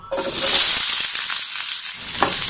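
Garlic and ginger hit hot oil for a Paneer Chole gravy and burst into a loud, steady sizzle after a brief quiet start. The bright crackling hiss holds strong for the rest of the moment, with no talking.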